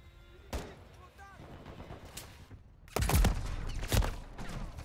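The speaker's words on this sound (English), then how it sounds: "who else is shooting me" Gunfire in Call of Duty Modern Warfare 3 PC gameplay: a couple of isolated sharp shots, then a close, loud cluster of rapid bursts, with in-game sounds and a voice in between.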